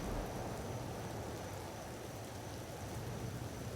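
Steady rainfall in the video game Empyrion Galactic Survival, a dense, even hiss of drops with a low rumble underneath, continuous and unbroken across the short stretch.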